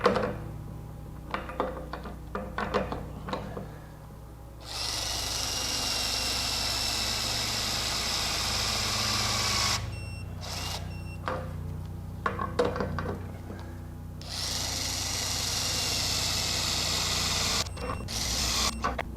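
Subcompact stubby impact wrenches, Milwaukee M12 and M18 and a Ridgid, hammer at bolts in sustained loud bursts of several seconds each, separated by short pauses with scattered clicks and handling noise.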